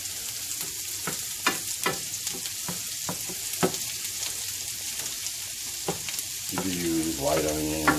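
Chopped shallots sizzling and crackling in a pan for a shrimp and lobster risotto with bacon, a steady fry broken by sharp stirring scrapes, then a louder stir near the end.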